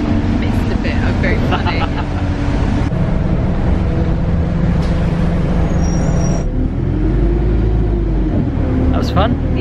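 A bus rattles and rumbles along Cornish roads near Penzance, a loud continuous engine and road drone with clattering and a hiss of air brakes, voices talking over it.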